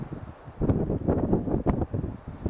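Wind gusts through sharp-tipped pine trees in short rushing surges of moderate loudness, with no voices.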